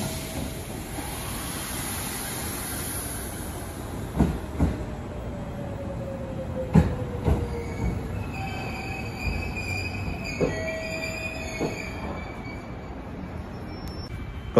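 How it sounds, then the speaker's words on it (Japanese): A JR West 681 series limited express train runs by, wheels squealing and grinding against the rails, with low rumbling, metallic clacks and occasional high screeches, no voices. "その特急列車は681系という白鷺で主に使われている車両です。"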